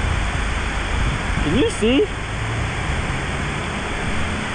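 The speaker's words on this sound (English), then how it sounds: "It's raining so hard that we couldn't even see anything." Heavy rain pours steadily at an old abandoned gas station along a road, a dense even hiss close around, while a person briefly speaks under it.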